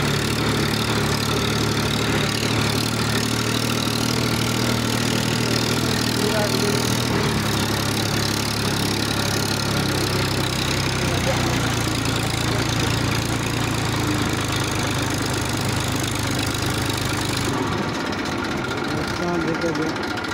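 Tractor engine running on a farm field, a loud steady low rumble with a shift in pitch partway through, continuous throughout and ending with a drop near the close.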